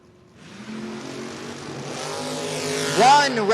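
Drag race cars, a Chevelle against a Vega, idling at the line and then launching, engines rumbling and climbing into a loud rising rev that surges near the end, under faint announcer-like talk.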